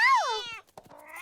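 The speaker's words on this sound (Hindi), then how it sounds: "ये बिल्ली ऐसे नहीं मानेगी।" A cartoon cat lets out a loud, close, drawn-out meow with a sliding pitch, then a short gap and a second, softer meowing cry.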